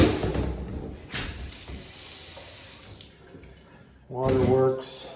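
Water pours from a tap into a sink in an apartment during a walkthrough, a steady hiss running for about three seconds before fading, with a person speaking briefly afterward.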